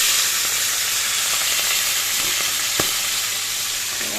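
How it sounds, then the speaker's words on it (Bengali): Fish frying in a pan gives a steady, loud, close sizzle, hissing without a break across the whole stretch, with no voices. "চলো মাছগুলো ভেজে নিই"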